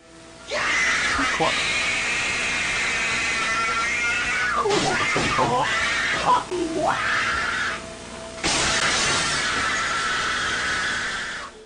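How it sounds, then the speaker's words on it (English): A man shrieks in long, wild, animal-like screams while wrecking a room, the cries rising and breaking with short gaps and bangs between them. "he is shrieking like a wild animal and destroying the whole room"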